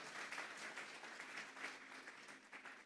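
Congregation in a Sunday church service claps together, a faint, steady wash of applause heard from a distance throughout.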